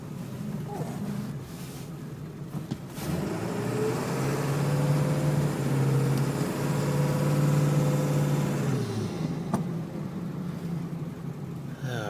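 A 2002 Ford F250 crew cab 4x4 with the 7.3 liter diesel idles steadily and close by, a deep, even rumble that runs unbroken for about twelve seconds with no one talking.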